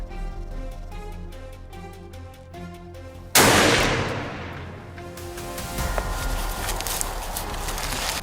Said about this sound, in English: The bullet found its mark.